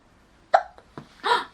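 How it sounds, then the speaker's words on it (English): A baby gives a few short, soft hiccups in close succession, irregularly spaced and heard up close in a quiet room. "Hiccups."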